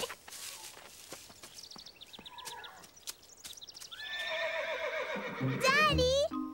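A horse neighs in a children's cartoon, a loud, wavering whinny rising near the end after hoof clip-clops and light ambient sounds, with speech mixed in.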